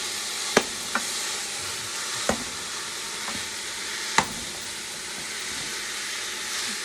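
Beef chunks stir-fry and brown in a hot pan for a Greek beef stew with orzo, a continuous dense sizzle with a handful of sharp clicks of the spoon, close and without talk.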